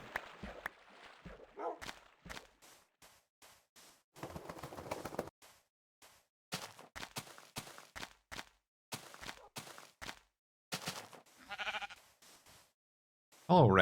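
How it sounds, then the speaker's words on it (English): Minecraft sheep bleating in a video game, a run of short repeated bleats spread across the stretch with brief gaps between them, fairly close and clear, with no talk over them. "Hello, random sheep."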